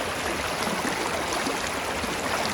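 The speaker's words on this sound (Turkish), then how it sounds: "akan suların sesini duyuyorsun" A creek in Austria rushes past close up, a loud, dense, unbroken hiss of flowing water with no voices.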